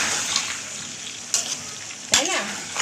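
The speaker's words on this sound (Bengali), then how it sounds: "আলুগুলো ভাজতে হবে, স্বর্ণমুখী আলু ভাজতে হচ্ছে" Swarnamukhi potatoes fry in a pan with chicken cooked without added water, a steady close sizzle with a couple of sharp stirring scrapes.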